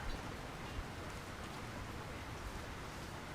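Rain falls over a town in the Lord of the Rings: War in the North video game, a steady, soft, even hiss with no breaks and no speech.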